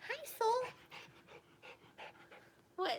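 Three puppies panting in short bursts at close range, with a person speaking over them.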